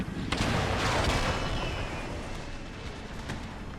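Artillery guns firing in the Empire: Total War strategy game, a booming volley up front followed by rumbling, crackling gunfire that trails away over a few seconds, no talk.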